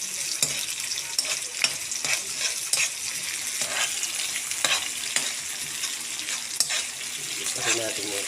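Tomatoes sauté in a pan with a steady sizzle, broken by repeated scrapes and clinks of a spoon stirring against the pan, close and continuous throughout.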